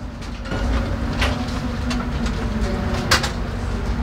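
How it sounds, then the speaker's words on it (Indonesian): Jayabaya executive passenger train pulling into Surabaya Gubeng station, a steady low rumble of rolling carriages with clicks of wheels over rail joints and a squeal, with birds chirping faintly. "Jayabaya tiba di stasiun Surabaya Gubeng."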